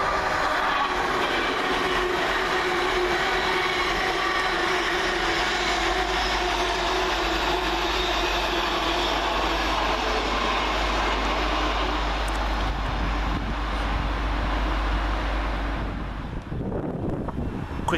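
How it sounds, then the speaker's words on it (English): An LNER Class 801 train, unit 801209, runs through Peterborough station with a steady, loud rushing roar and deep rumble that lasts throughout and fades slightly at the end, with wind buffeting the microphone. "Next up for LNER is 801209. Working 1 Delta 14 from London King's Cross to Leeds."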